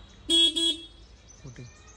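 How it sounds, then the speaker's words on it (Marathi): A vehicle horn honking in two loud, close blasts one after the other, followed by quieter chirping sounds. "कंटिन्यू हॉर्न वाजवत राहते."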